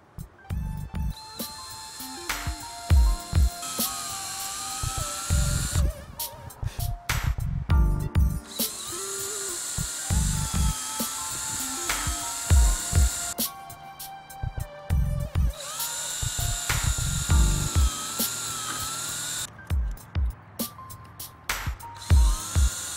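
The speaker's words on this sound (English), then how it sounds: "I'm going to drill a small hole in each corner" A power drill whirs in several short bursts, spinning up and biting into plywood to drill small holes, with pauses and clatter between runs, close by.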